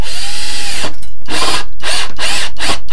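A power drill drives screws to secure a cheap wood lathe setup, with a long loud whir followed by several short, bursty pulses of the motor as each screw is seated, close up and without talk.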